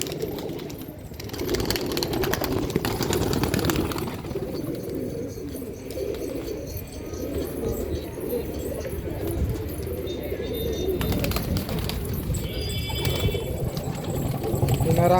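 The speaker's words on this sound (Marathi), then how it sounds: "त्यांची ही बबऱ्या जातीतली कबूतर आहेत." Babarya breed pigeons cooing at a loft, soft low coos repeating amid steady background rumble and faint bird calls.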